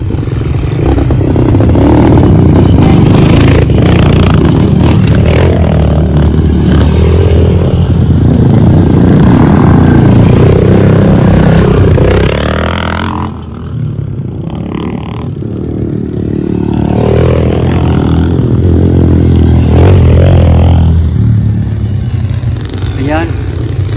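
Motorcycles revving and climbing a rough Mt. Pinatubo trail near the crater lake in Botolan, loud close engine roar and throttle surges with clattering over rocks, under a person talking.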